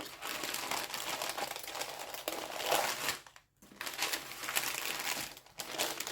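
Gift wrapping paper crinkles and rustles steadily up close as it is carefully unwrapped, a long stretch of crumpling with a brief pause partway through, no voices.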